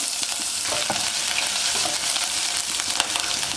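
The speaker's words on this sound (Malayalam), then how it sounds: "ഇതിലേക്ക് നമുക്ക് ചതച്ച് വെച്ചിരിക്കുന്ന ഇഞ്ചിയും വെളുത്തുള്ളിയും ചേർക്കാം" Crushed ginger and garlic sizzle in hot coconut oil with popped mustard seeds for a green gram curry, a steady close crackling fry with light stirring clicks and no talking.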